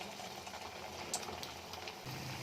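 Potato snacks frying in hot oil make a faint, steady bubbling sizzle with soft crackles throughout, no voices.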